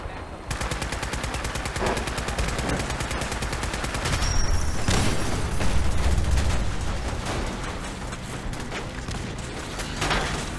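Rapid automatic gunfire in the video game Fallout 4, close and sustained machine-gun bursts rattling steadily for about ten seconds over a rumbling game background.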